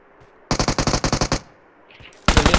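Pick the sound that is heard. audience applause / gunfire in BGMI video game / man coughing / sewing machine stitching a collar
gunfire in BGMI video game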